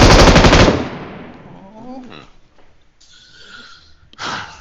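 Loud burst of rapid automatic gunfire from the PUBG Mobile battle royale game opens the clip, then fades into quieter game sounds and a short whoosh, with another sharp noise burst at the end.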